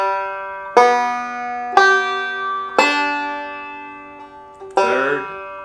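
Banjo roll picking pattern, four plucked notes spaced about a second apart, each bright attack ringing and decaying cleanly, the last one slightly strummed, played alone in a quiet room.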